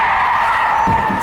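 A real car braking hard on a race-style run, a brief loud steady tire skid screech lasting about a second, close by and alone.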